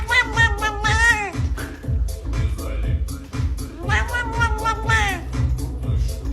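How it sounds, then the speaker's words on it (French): Cats produce strange, musical-sounding meows and warbling yowls in two loud bursts, with a steady rhythmic backing underneath, up close and clear. "Les chats émettent de nombreux sons étranges."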